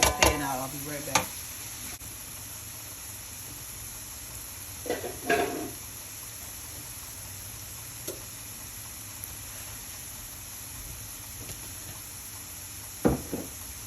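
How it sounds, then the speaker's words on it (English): Onion paste cooking in butter in a pan, heard as a low continuous sizzle broken by a few sharp scrapes and clanks of stirring, near and fairly quiet, with no speech. "And it needs to be stirred up every so often, just to make sure that that butter doesn't burn."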